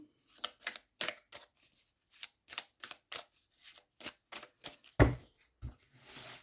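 Yi-King oracle cards are shuffled in a series of quick, crisp riffling bursts, a dozen or so short flutters in an uneven rhythm, close and clear, ending with a longer rustle.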